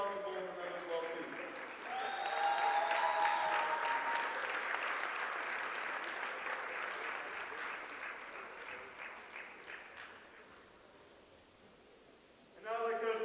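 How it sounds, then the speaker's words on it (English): Round of applause from a crowd at a high school basketball championship ceremony, sustained clapping building quickly and fading gradually over about ten seconds, with a voice speaking before and after. "Let's give both these gentlemen a round of applause"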